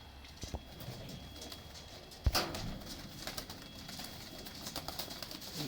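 Pigeons from a fancier's Mistri Deen-line flock coo in a low, steady murmur, with a sharp knock partway through and light rustling throughout.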